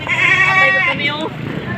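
Goats bleat in a wavering, harmonic cry that fills the whole clip, with several overlapping calls close by, at a goat market in Padre Garcia, Batangas.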